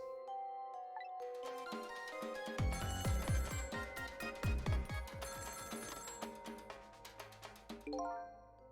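An internal phone rings in the video game Ghost Trick: Phantom Detective, with a rapid trilling electronic bell that rises over a chiming game tone, then fades out.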